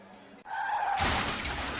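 A car crash sound effect in a radio advert: a short whooshing build and then a loud broadband smash of shattering and crunching that fills the rest of the moment, with no talk over it.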